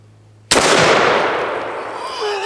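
A Garaysar Fear 116 12 gauge shotgun fires a single loud, sharp blast at an outdoor shooting range, followed by a long ringing decay that slowly fades.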